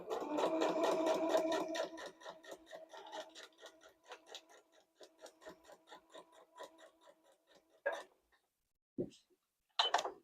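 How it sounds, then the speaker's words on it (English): A sewing machine basting a wolf quilt runs with a fast, steady ticking stitch that starts loud and close, then thins and stops, followed by a few brief handling sounds. "pardon me while I do a little bit of basting around here"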